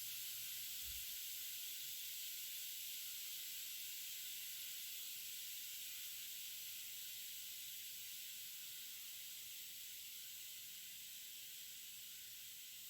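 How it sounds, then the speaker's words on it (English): A rice cooker releasing pressure gives off a steady, continuous hiss of steam, fairly faint and even, running unbroken throughout with no voices. "There goes the pressure release on the rice cooker"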